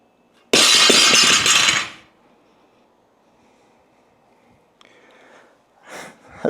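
Loaded steel sleeves on a powerlifting barbell ring out in one loud, close metallic clatter that decays over about a second. Faint clinks follow later, with no talk.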